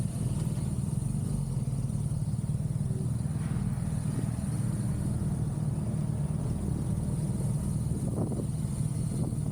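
Motorcycles, including a Honda CBR, arrive on a Scottish road: steady low engine rumble close by throughout, with a few faint revs rising in the background.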